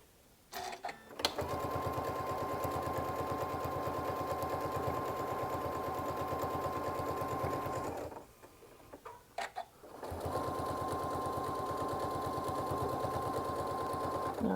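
A sewing machine stitches a seam in two long, steady runs, with a brief pause of a few seconds between them and a faint click or two in the gap.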